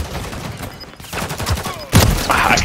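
Call of Duty Modern Warfare 3 hardcore multiplayer gunfire, rapid overlapping bursts of automatic shots, some close and loud, others farther off, with a heavy sharp volley near the end.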